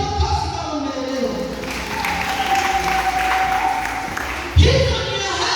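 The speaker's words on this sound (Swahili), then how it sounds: "watu piga makofi kama umeelewa" A church congregation applauds during a sermon, a broad wash of clapping under a preacher's amplified voice that runs steadily before a sharp thump near the end.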